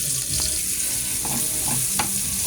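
Onion and chili frying with pork liempo in a pan: a dense, steady sizzle close up, with a few soft stirring knocks.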